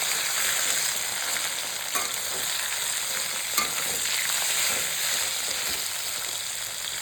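Boiled taro stolons with potatoes and a little turmeric fry in hot oil in a pan, giving a steady close sizzle with occasional soft stirring scrapes.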